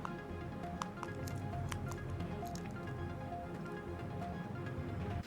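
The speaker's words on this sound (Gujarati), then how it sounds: "જે ધોધમાર વરસાદ વરસી રહ્યો છે" Heavy monsoon downpour over Kapadvanj taluka in Gujarat's Kheda district, where streets are waterlogged: a dense, steady wash of rain with scattered close drips and patters, continuous and fairly loud throughout.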